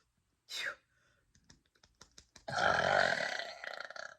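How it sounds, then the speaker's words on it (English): A single short burp near the start, followed by soft clicks and then a longer breathy, rustling stretch, close and fairly quiet with no talk. "I might give a little burp."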